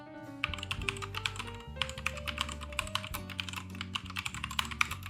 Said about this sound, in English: now it's a sound test for the keyboard.